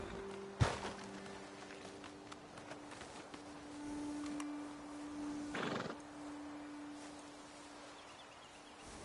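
Horses whinny in Red Dead Redemption 2, one sharp loud neigh early followed later by a second drawn-out whinny, with soft hoof shuffles and faint ambient hum between.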